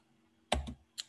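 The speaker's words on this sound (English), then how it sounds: "we will type all of our command, this long command." A few quick keystrokes on a computer keyboard while a long command is entered: one sharp clustered burst of clicks followed by a single lighter tap, close and quiet against near silence.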